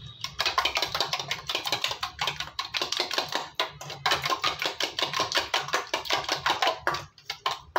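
Rapid, steady tapping of a whisk or fork beating omelette mixture seasoned with pepper powder in a bowl, close and continuous with brief pauses, no voices.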